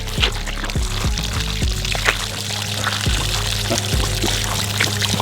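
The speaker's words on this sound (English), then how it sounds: "they've completely drank all their water overnight, so let's fill that up" Water pours steadily from a hose into a water trough, a continuous close splashing stream with a low mechanical hum underneath and no voices.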